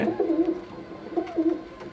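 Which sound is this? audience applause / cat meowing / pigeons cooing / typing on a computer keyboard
pigeons cooing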